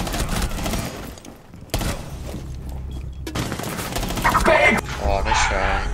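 Bursts of gunfire in the Rainbow Six Siege video game crackle in a loud, dense, ongoing exchange, with other game sounds and players' voices talking over it.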